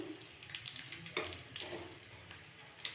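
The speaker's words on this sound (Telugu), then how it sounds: "చెక్క, లవంగాలు, వెల్లుల్లి రెబ్బలు 2 వేసి" Cinnamon, cloves and garlic cloves fry with onions in hot oil, giving a steady soft sizzle with occasional stirring scrapes throughout, fairly quiet and without talk.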